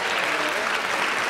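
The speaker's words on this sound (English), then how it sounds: "Let's give her a round of applause." Congregation applauding in a Baptist church during an anniversary service, a dense, steady wash of clapping from many hands that fills the whole short moment without a break.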